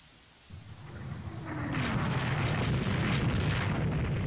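A deep rumble of thunder rolls in under steady rain in the naval strategy game Rule the Waves 3, swelling from quiet into a broad, continuous roar.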